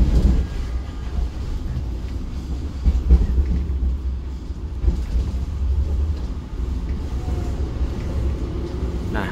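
The KA Gunungjati train rolls into Cikampek station, a steady low rumble and rattle from inside the carriage with soft clacks of wheels over rail joints, continuous and fairly loud.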